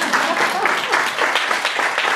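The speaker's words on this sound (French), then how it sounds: "Applaudissez encore une fois," A conference audience keeps clapping, a sustained crowd applause filling the whole moment with a faint voice mixed in underneath.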